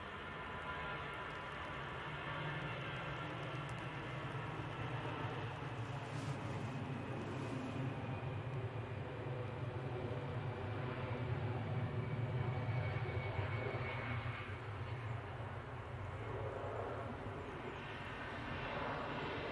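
An EasyJet jet airliner on its takeoff roll at Manchester Airport, a steady distant engine roar with a low rumble holding evenly for about twenty seconds, fairly faint and without any talking.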